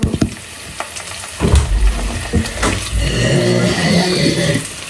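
Paneer curry cooking in a pan, a continuous sizzle with stirring scrapes and occasional clatter, close and fairly loud.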